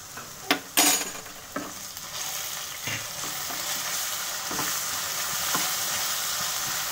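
Coarsely ground green chilies sizzle in hot oil in a pan, a constant close hiss broken by a few sharp clinks and scrapes of a spoon against the metal early on.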